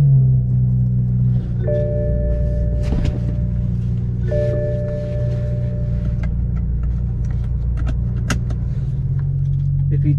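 A 2016 BMW M235i with a six-speed manual hums and rumbles steadily from inside the cabin while driving, with a low engine drone, brief clicks and shift sounds, and some faint speech.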